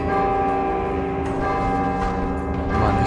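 Temple bells ring in the video game God of War 2, giving a sustained, resonant metallic chime with layered ringing overtones that hold steadily and swell again toward the end, with no speech.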